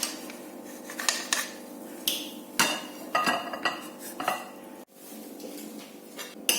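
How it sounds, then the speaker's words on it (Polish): A gluten-free rice-flour omelette with dark chocolate gets shifted onto a plate, with repeated loud clinks and scrapes of metal utensils against the pan and plate over a few seconds. "I już go przekładam na talerz."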